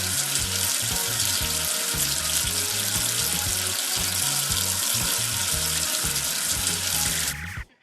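Water pours steadily from a tap to rinse soap off the number 13 in a 3D preschool number-tracing game, a loud continuous hiss and splash over a looping bouncy music bed that stops just before the end.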